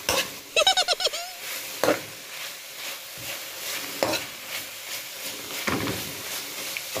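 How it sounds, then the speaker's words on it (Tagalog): Food is stirred in a cooking pan with scattered scrapes and a few louder clanks against the metal over a soft background sizzle, near and moderately loud. "Halo-haluin natin yan."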